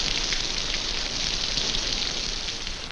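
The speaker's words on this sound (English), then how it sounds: "Even the rain works for them, filling open containers with good drinking water." Jungle rain falling steadily, a dense even hiss of drops on surfaces, close and constant with no voices.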